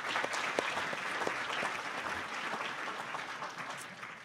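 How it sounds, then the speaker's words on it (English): An audience at a ceremony applauds: dense, steady clapping from many hands, fairly close and even throughout, with no voices over it. "Let's give them a round of applause."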